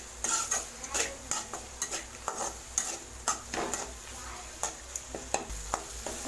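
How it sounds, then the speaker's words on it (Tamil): Small tomatoes are sautéed in a pan over a medium flame, with a soft sizzle running under repeated sharp scrapes and taps of a spoon stirring against the pan. "அதனால் மீடியம் ஃப்ளேம்லேயே வச்சு நல்லா வதக்கி விட்டுக்கலாம்."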